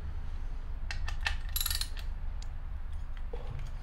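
A wrench works on the parts of a Penn 704z fishing reel with quick metallic ratcheting clicks and a few scraping creaks, close by, over a steady low hum.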